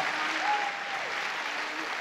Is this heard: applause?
yes